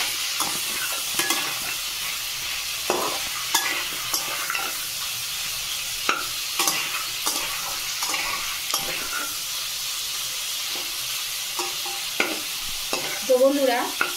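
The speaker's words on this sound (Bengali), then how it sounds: "ঢাকনাটা এবার খুলে দেখবো। ভালো করে আমি নেড়ে চেড়ে নেবো।" Chicken cooked in butter is stirred in a large kadai. Spatula strokes scrape and clatter at irregular intervals over a constant nearby sizzle, with no talking.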